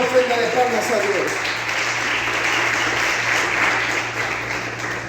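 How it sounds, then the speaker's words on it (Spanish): Church congregation gives an offering of applause to God during a sermon, a steady wash of clapping from the gathered crowd after a brief trailing bit of voice at the start. "dale una ofrenda de palmas a Dios."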